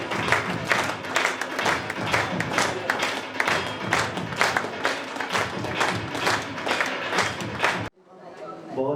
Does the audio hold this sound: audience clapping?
yes